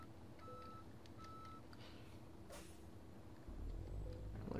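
A truck hauling an oversized convoy load reverses in Euro Truck Simulator 2, with faint, evenly spaced electronic reversing beeps over a low engine hum that grows slightly louder near the end.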